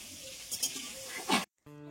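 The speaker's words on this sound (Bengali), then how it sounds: "আর এদিকে আমি এখন পটল ভাজা করছি।" Pointed gourd (potol) frying in a pan, a steady soft sizzle with a few brief louder crackles, close by, cutting off abruptly near the end.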